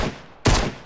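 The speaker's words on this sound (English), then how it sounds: "Stop shooting!" A loud burst of Fortnite gunfire erupts midway after a rougher lead-in, dense and sustained to the end of a split-second moment.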